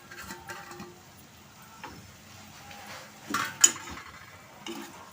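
Metal clinks and scrapes of a lid being set on a cooking pot of banana flower curry with tamarind pulp, several light knocks with one sharper clank near the end, close and fairly quiet.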